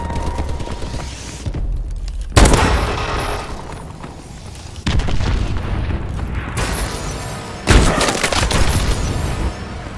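Enemy missile strikes pound the battlefield in Call of Duty: Advanced Warfare, with three heavy, close explosions at intervals and crackling gunfire and debris filling the gaps between them.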